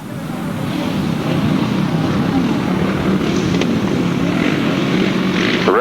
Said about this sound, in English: The revs rise on the starters' orders.